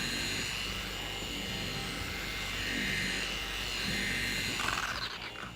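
A car paint polishing machine runs steadily at speed setting 3, working polish over a small square of paintwork: a continuous close whirring buzz with a slight rise and fall in pitch, no voices.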